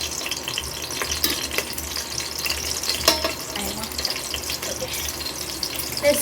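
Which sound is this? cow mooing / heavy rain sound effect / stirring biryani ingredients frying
stirring biryani ingredients frying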